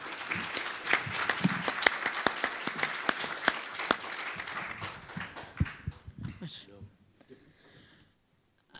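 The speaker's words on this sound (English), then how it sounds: "A round of applause, please." A Dublin Citizens' Assembly audience applauds to welcome a speaker, a room of scattered sharp claps that thins out and fades to silence near the end.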